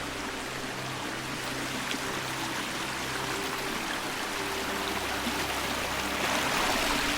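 A low creek rushes steadily beside a waterfall trail near Beaver Lake in Sitka, Alaska, a constant broadband flow of water that stays close and even throughout, with no voices over it.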